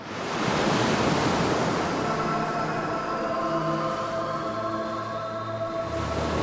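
Ocean surf rolls in continuously as a broad, steady wash of breaking sea waves, loud and close, with faint tonal hum underneath and no voices.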